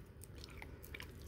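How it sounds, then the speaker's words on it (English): Crunchy fried flounder fish is bitten and chewed up close, a few quiet crisp crunches with no talking. "It's very, very crunchy. It's only that I fried it a while ago."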